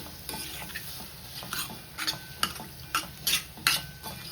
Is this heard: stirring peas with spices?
yes